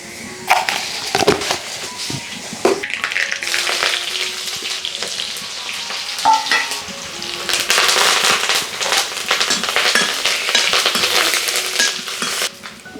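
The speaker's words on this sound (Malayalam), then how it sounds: "കടുക് വറുത്തു കേട്ടോ" Mustard seeds spluttering in hot oil for the tempering of a salted mango curry give dense, loud crackling and popping bursts that continue steadily and close up, with no talking.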